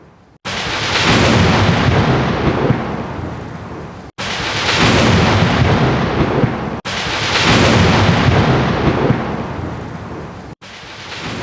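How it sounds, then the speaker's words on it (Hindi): A cartoon sea storm roars with heavy thunder and rain in three long, loud rumbling surges, each broken off by a sudden cut. "तूफान के बीच डटा रहा और गोलू को बचाने के लिए बेखौफ आगे बढ़ा।"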